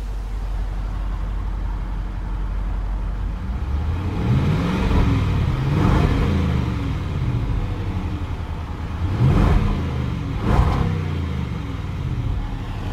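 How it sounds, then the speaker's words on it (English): A 2021 Range Rover Sport SVR with its supercharged 5.0 V8 and sports exhaust engaged, rumbling at a deep idle, then revved in several loud blips, a couple of them sharp and close together near the end. "Let's go ahead and activate the sports exhaust."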